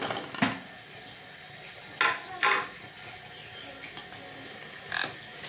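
Fried dal mash lentil dumplings are dropped into cooked broth in a pot, producing a few separate clinks and soft splashing knocks at irregular intervals over quiet kitchen background.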